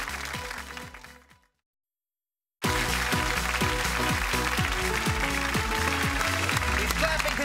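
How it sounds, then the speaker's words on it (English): A game show studio audience claps and applauds in a loud, dense, continuous wash. It fades out, breaks for a moment of silence, then resumes at full strength, with music playing underneath. "He's clapping because he's a happy man."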